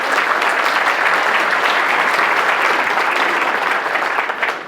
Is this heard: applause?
yes